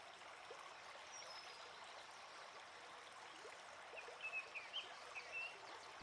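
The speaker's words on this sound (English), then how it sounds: "Look at the waterfall behind me." Faint distant rushing of an Arctic waterfall, a steady soft watery hiss with occasional bird chirps near the end.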